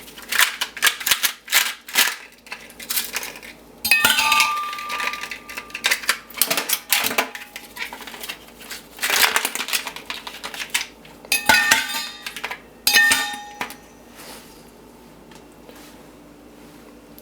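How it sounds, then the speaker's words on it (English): Ice cubes frozen in trays are dropped into a vacuum sealed bottle, giving bursts of hard clattering and rattling clinks in uneven clusters, loud and close, with short pauses between handfuls. "I'm going to take this ice, which I froze the night before, and I put it in these ice cube trays, and I'm going to put it inside of this vacuum sealed bottle"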